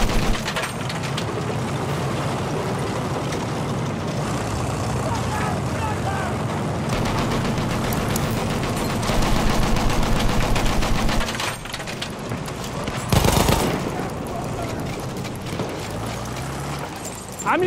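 Battlefield 1 video game battle with dense, continuous machine gun fire and rattling shots amid a loud wash of combat noise, a louder burst midway and a sharp blast near the end.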